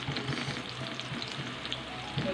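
Garlic and onion fry in a pan with a constant, close sizzling hiss and light scraping stirs for vegetable Hakka noodles, with no voices.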